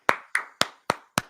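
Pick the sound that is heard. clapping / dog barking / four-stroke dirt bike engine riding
clapping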